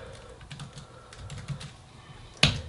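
Quick, light keystrokes patter on a computer keyboard as a discount code is entered, closing with one sharper key press.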